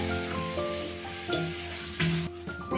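Tomatoes hit a pan of softened frying onions, setting off a steady close sizzle with a few stirring scrapes and brief bursts of louder frying.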